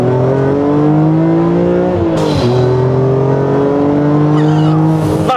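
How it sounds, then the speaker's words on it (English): A BMW Z4 M with the S54 engine revs hard, its loud, close raspy note climbing steadily, dropping sharply on a shift near the midpoint, then rising again to a second peak at the end. "It's got that lovely rumble"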